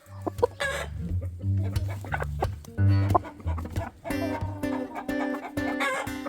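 Several chickens cluck steadily at close range, with busy overlapping calls and some louder squawks, a lively farmyard chorus with no talking.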